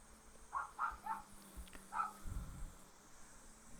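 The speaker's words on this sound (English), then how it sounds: "somebody's mowing the lawn and the dogs are barking" Dogs bark a few times at a distance, with a handful of short yips in quick bursts, over a faint low drone from a lawn being mowed nearby; quiet and outdoors, with no talk.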